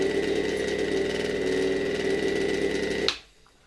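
The SK3C electric motor of a 1964 FAWOD coffee grinder, run without its interference-suppression capacitor, hums steadily and loudly before cutting off abruptly near the end, leaving near silence.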